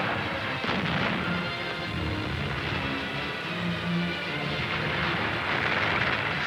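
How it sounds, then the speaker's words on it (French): German heavy-calibre and tank artillery fire on attacking Soviet tanks, a dense continuous rumble of booming shots and blasts layered over one another, loud and without talk. "Deutsche Artillerie stärkerer Kaliber und Panzerartillerie beschießen angreifende Sowjetpanzer."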